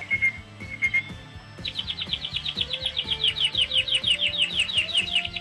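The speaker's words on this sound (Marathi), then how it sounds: "पक्ष्यांचा चिवचिवाट आणि सोपतीला सुमधुर संगीत" Birds chirp in quick, bright repeated bursts over a gentle melodic tune playing steadily underneath.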